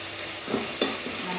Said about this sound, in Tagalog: Iprito po muna natin ito